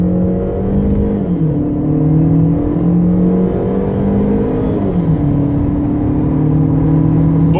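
A petrol Opel Astra 1.4 T automatic accelerating hard, its engine note climbing steadily and dropping at gear changes, heard from inside the car as a continuous loud drone with no talking.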